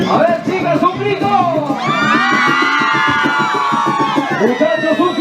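Crowd of women at a Hatun Pukllay carnival in Lima shout together in a loud, sustained high-pitched cheer, rising over a noisy gathering with someone talking at the start.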